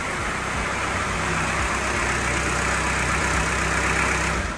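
A Citroen BX car engine runs at a steady idle, loud and close, with a deep, van-like drone and low rumble that holds evenly throughout.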